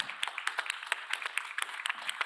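Audience applause after a panel discussion, a quiet scattering of individual claps that continues unevenly without any voices.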